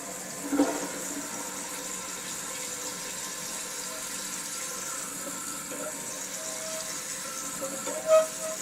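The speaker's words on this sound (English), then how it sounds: "I'm just going to flush it now and let it run through." A steady, low rushing of water runs throughout, with a faint squeak near the end, like a toilet flushing and refilling close by.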